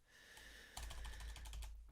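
Computer keyboard typing during a web automation tutorial, a quiet run of clicks that turns into a faster, denser burst of keystrokes partway through, heard alone with no talk.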